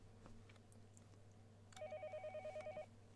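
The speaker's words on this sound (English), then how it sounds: "A late night phone call." A telephone rings in the Higurashi video game during a late-night call scene, a faint warbling electronic ring in a short repeating burst over a low background hum.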